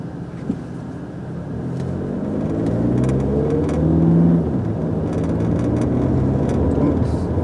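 A Continental 48V mild hybrid car drives on a road test, its engine and tyre hum rising and falling in a steady close rumble while faint voices murmur inside the cabin.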